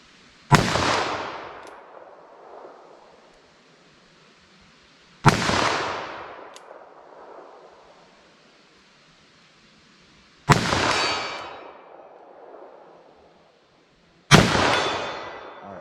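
Four loud, close .44 Magnum revolver shots fire Underwood Hard Cast ammunition outdoors. They come several seconds apart, and each sharp crack decays into a short ringing tail.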